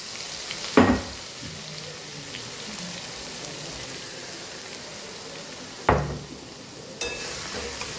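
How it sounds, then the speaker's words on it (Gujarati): Crushed garlic and a pinch of asafoetida hit hot oil already holding mustard seeds and cumin, making a steady crackling sizzle broken by three sharp clattering impacts spaced several seconds apart. "પિંચ જેટલી હિંગ એડ કરી, સાથે સાથે વાટેલું લસણ પણ એડ કરી દઈએ"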